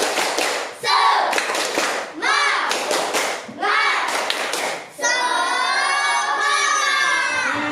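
A classroom of students claps out a rhythmic spirit chant led by a classmate: sharp clusters of hand claps in patterned bursts, followed by children's voices and cheering.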